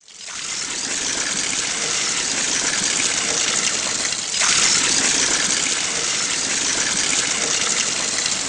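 Water gushes from a natural mineral water spring in a city, a loud, steady, close rushing flow that continues unbroken throughout.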